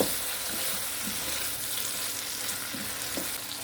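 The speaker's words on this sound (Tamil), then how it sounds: "கத்திரிக்காய் சேர்த்து அதையும் வந்து நம்ம வதக்கி விட்டுக்கலாம்." Eggplant and tomato sauté in a hot pan for a mixed vegetable sambar, giving a steady close sizzle and crackle with a few soft stirring scrapes throughout, no talking.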